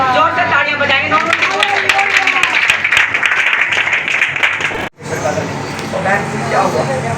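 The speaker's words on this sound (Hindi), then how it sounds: "जोर से तालियां बजाएंगे दोनों।" Congregation clapping loudly at an Easter service in a Panipat church, a dense steady wash of applause mixed with voices and music, cutting off abruptly near the end before resuming with talk over it.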